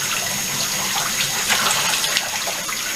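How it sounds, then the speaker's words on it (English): Tap water runs steadily over a synthetic cosplay wig being wet down for washing, a continuous close splashing gush with no voices. "while I was wetting that down, I always run the water in the direction of the fibers"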